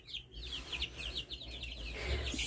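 Young chicks in a pen give a rapid run of high, repeated peeping chirps, close and fairly loud, with a low background rumble and a burst of louder noise near the end.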